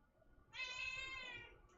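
A cat gives one drawn-out, fairly quiet meow lasting about a second, with no talking around it.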